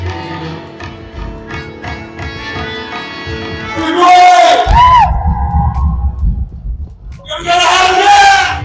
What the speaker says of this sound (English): Can I hear a loud cheer from this side first?